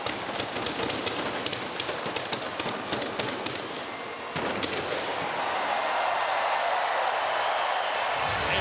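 Dense crackling bursts of fireworks going off continuously at a rugby sevens cup final in a Hong Kong stadium, loud and rapid, then giving way to a broad roaring wash of noise.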